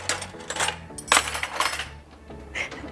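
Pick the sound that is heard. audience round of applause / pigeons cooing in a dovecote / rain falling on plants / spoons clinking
spoons clinking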